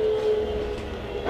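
A Keikyu express train pulling into Horinouchi station, a low steady rumble of the railcar rolling in with a faint sustained tone over it, brief and continuous with no talk.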